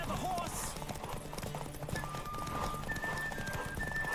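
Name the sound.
horse galloping and neighing in video game Witcher 3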